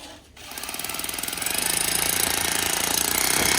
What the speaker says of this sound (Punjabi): ਹੈਮਰ ਵਾਲੀ ਡਰਿੱਲ ਆ ਬਾਈ ਇਹ ਵਾਈਬ੍ਰੇਸ਼ਨ ਗੇਲ ਫਿਰ ਮਿੰਟਾਂ 'ਚ ਮਾਰਦੀ